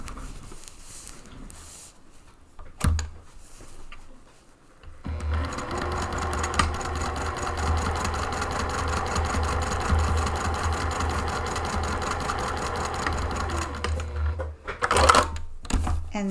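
A sewing machine stitches across a bag's side and base seams: a steady mechanical whir and rapid needle chatter running for about ten seconds, preceded by a few handling clicks and rustles, no voice.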